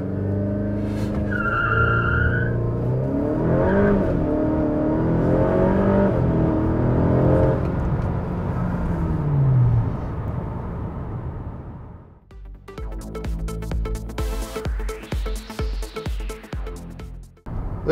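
A hybrid-turbo Honda Civic FK8 on an E30 ethanol tune launching hard in second gear, its engine note climbing steadily through the revs with wheel spin, then easing into rougher, pulsing engine sounds.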